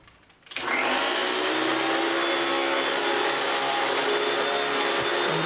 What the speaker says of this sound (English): And we're going to vacuum it.